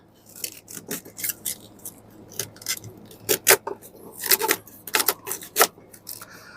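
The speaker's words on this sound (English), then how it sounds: "And we are going to cut off the ends." A knife trims the ends off steaks on a cutting board, giving a run of irregular sharp scraping and clicking cuts, close and moderately loud, bunched into bursts with short pauses between.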